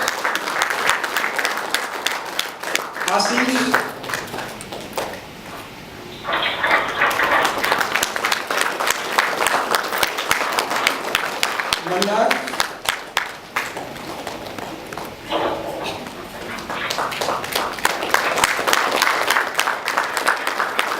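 An audience at the PhUSE India 2014 event applauds in long sustained rounds of dense clapping, briefly dropping off before swelling again, with a voice announcing names between the rounds.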